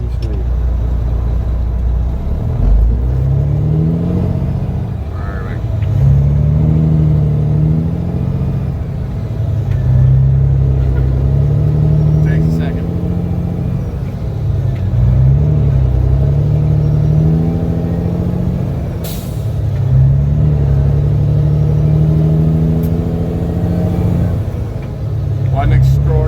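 A Peterbilt truck with a 350 HP Detroit Diesel engine rumbles steadily throughout, its low droning note rising and falling with gear changes, loud and close, with people talking over it.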